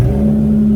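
A Dodge Challenger GT with a cold air intake and straight-piped exhaust gives a brief, loud, deep rumbling rev up close, a steady low drone with no voices.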